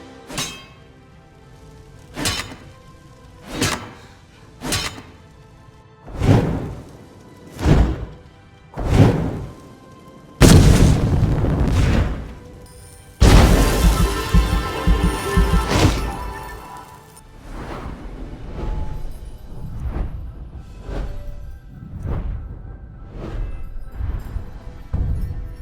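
Weapon and spell impacts from a Skyrim Special Edition sound mod, a series of loud, evenly spaced thuds and crashes followed by longer swooshing bursts and softer impacts, heard alone.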